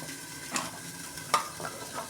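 Taro stolons go into a hot wok with a little water and set off a soft, steady sizzle, with a few sharper crackles breaking through over the short stretch.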